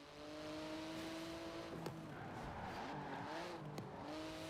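Porsche 911 with a 3.8-litre twin-turbo flat-six making 700 horsepower, in a carbon-fibre body with wings and vents, revs hard through the gears with two sharp shift breaks, a loud steady engine roar with faint tire noise.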